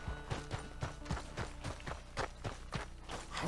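Horses' hooves clip-clop in Red Dead Redemption 2, a steady rhythmic run of hoofbeats, roughly two or three per second, close by, with soft thuds over a faint game backdrop.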